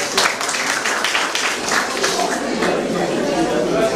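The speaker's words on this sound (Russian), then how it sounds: "Еще раз аплодисменты." An audience at an art exhibition opening breaks into dense, sustained applause. The clapping holds at a steady level for several seconds, with crowd chatter mixed underneath.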